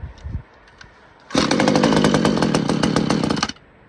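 25cc top handle chainsaw cold started, a few quiet rustles, then the engine catches on the first pull and runs loud and buzzing at high revs for about two seconds before cutting off abruptly.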